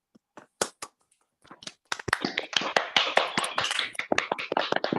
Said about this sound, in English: can we unmute and have a round of applause?